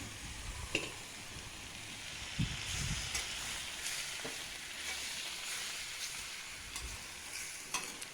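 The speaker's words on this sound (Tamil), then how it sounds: "இப்போ வந்து சிக்கனை போட்டு கலந்து விட்டுடலாம்" Chicken being stirred into masala in a pan while cooking Pallipalayam chicken: a faint, continuous sizzle and crackle, with occasional soft scrapes and knocks of stirring.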